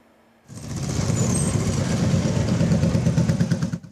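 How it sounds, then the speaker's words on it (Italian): Motorcycle engines roar loudly and steadily after a brief quiet start, a dense rumbling clatter of several bikes close by at a Christmas charity ride in Mirano, Italy. "Rombo di motori a Mirano."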